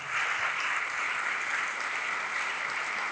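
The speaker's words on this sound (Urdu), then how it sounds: "مسیح کے لیے زوردار تالیاں ہم بجا سکتے ہیں۔" Church congregation clapping loudly together for Christ, a steady wash of applause filling the room without pause for several seconds.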